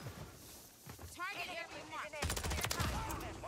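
Rapid bursts of automatic gunfire crackle through a Warzone 3 match on Rebirth Island, with excited player voices talking over the shooting, which turns heavier and denser toward the end.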